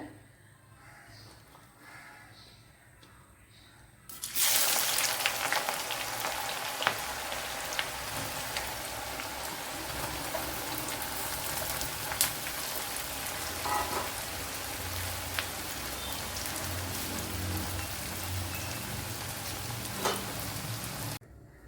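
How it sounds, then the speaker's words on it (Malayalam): Two sliced onions, cut thick, dropped into hot oil for an egg roast, giving a loud, steady crackling sizzle that bursts in suddenly and then runs on evenly with no talk. "അതിലേക്ക് ഒരു രണ്ട് സവാള സ്ലൈസ് ചെയ്തത് ഇട്ട് കൊടുക്കാം"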